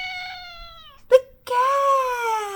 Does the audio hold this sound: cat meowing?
yes